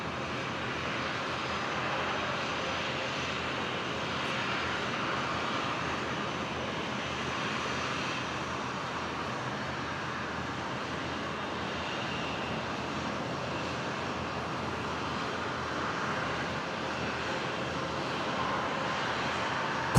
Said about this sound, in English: Qantas 516, maybe the last arrival on 19 this morning. In from Sydney, 737-800.